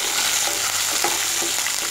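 Green chillies sauté in hot oil for poori masala, a steady, dense sizzle that runs unbroken and fairly loud, with faint stirring under the crackle.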